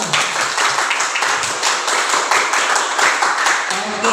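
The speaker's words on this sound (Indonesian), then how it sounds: "tepuk tangan untuk semua" A class of children claps together in a quick, irregular patter of many hands that carries on steadily, with a few voices faintly mixed in.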